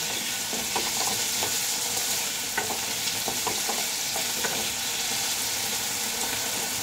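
Potatoes fry in oil over high heat, a loud constant sizzle punctuated by frequent scraping stirs and clicks, with no talking.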